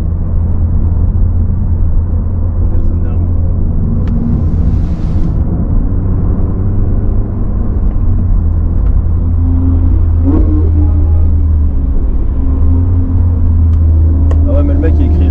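A Mazda 3 being readied for the Nürburgring, fitted with Pilot Sport 3 tyres, its engine and exhaust giving a loud steady low rumble throughout, heard from inside or close by, with voices talking over it.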